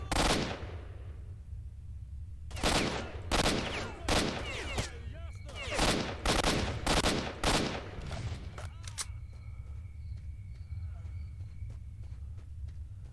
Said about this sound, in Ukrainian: Як я люблю ці перестрілочки в сталкері, але ще й вночі.